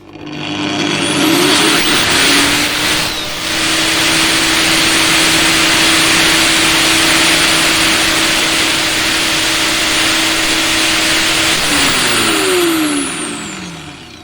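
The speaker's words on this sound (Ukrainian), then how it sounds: "Зараз хочу подивитися балансування цієї болгарки." An Intertool WT-0236 angle grinder spins up to a loud, steady high-pitched whine, holds at full speed for several seconds, then winds down.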